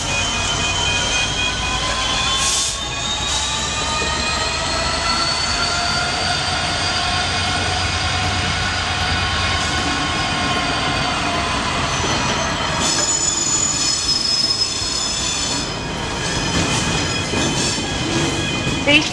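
A heavy cement freight train leaving the Ribblesdale cement works in Clitheroe rolls slowly past, wheels squealing in long rising and falling tones over a low rumble and occasional clanks, fairly close and continuous.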